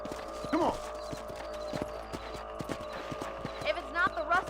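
In Red Dead Redemption, hooves clip-clop steadily at a trot on open ground while a horse snorts and whinnies now and then. The rhythm stays even throughout, with game music and voices faintly underneath.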